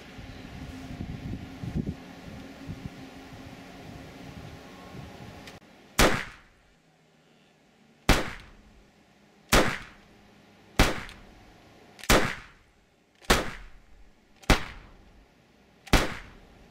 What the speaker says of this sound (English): I'm gonna shoot off a magazine